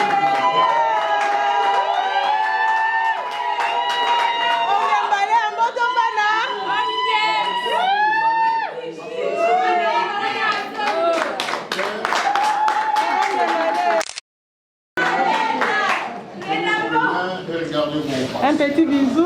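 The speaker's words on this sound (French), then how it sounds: "Ok, applaudissez pour" Wedding guests at a civil marriage ceremony break into applause and cheering amid loud crowd chatter, with voices and ululation-like calls over the clapping throughout, interrupted by a brief silent gap near the end.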